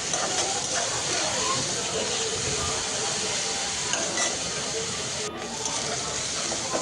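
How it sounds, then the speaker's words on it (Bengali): Prawns and onion fry in a pan, giving off a loud, steady sizzle and hiss that runs without pause from start to finish. "চিংড়ি মাছটা হালকা ভেজে নিব পেঁয়াজের সাথে"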